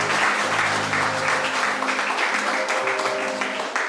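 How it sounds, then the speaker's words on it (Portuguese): Congregation clapping in praise during an evangelical church service, a steady loud wash of applause with sustained vocal or music tones underneath and voices joining in. "Vamos aplaudir a Deus?"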